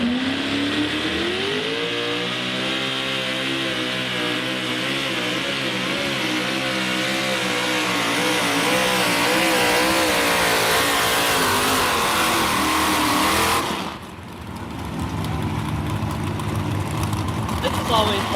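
A Ford race car engine revs hard on a dirt track, a loud sustained roar with rising and falling pitch sweeps through most of the clip. It breaks off briefly near the end, then the noise picks up again.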